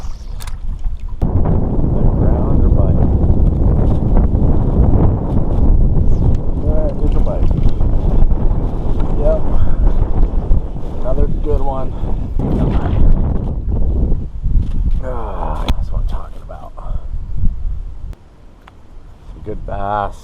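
Strong wind buffets the microphone on a lake during kayak fishing, a loud continuous roar that gusts and eases, with someone talking over it.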